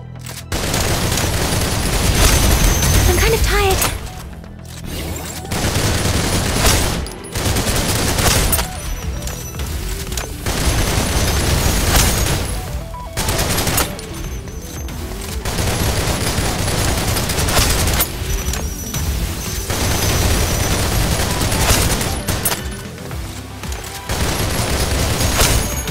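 Loud, rapid bursts of gunfire from shooter-game weapons in Snowbreak: Containment Zone, repeated volleys with short pauses between them, packed with booms and dense fusillades.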